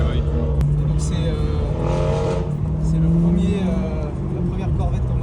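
A Chevrolet Corvette Z06 with a mid-rear flat-plane engine revs and drones nearby at a French car rally, its engine note sustained under steady conversation and crowd chatter.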